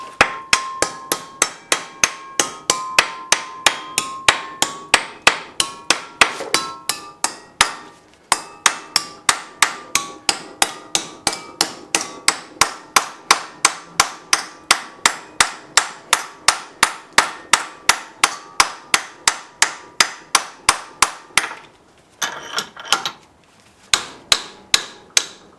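Hammer blows shaping a steel fuel tank bracket for a Ford F100, with a steady, fast, ringing series of close metallic strikes that continues for a long stretch and breaks off briefly near the end.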